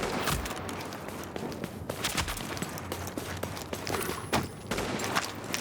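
Sniper rifle shots in a video game crack out in a dense, continuous volley, several sharp loud reports overlapping across the stretch with no pause in between.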